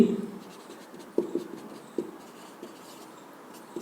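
Writing on a board during a chemistry lesson, with soft scratchy strokes and several sharper taps of the writing tool spaced irregularly over a few seconds, close by and quiet.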